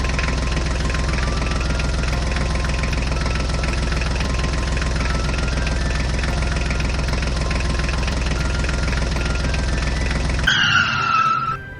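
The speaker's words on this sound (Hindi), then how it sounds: "अब हम अपने ट्रैक्टर को लेकर आगे चलते हैं" A tractor engine runs steadily while driving, a loud, continuous mechanical drone with a rumbling low end that holds for about ten seconds before cutting off abruptly into a brief, different sound.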